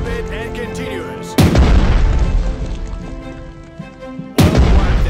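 Capital ship guns fire in the World War II strategy game Strategic Mind: Blitzkrieg, two heavy booming blasts a few seconds apart, each followed by a long rumbling decay over background game music.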